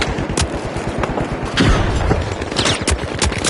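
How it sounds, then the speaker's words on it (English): Frag grenades tossed and bursting in The Finals arena, a busy run of loud explosive thumps and cracks layered with sharp gunfire, dense and continuous with no clear pauses. "Sending a frag."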